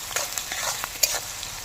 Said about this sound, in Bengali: পেঁয়াজ আর ক্যাপসিকামটা ভাজা হয়ে গেছে প্রায়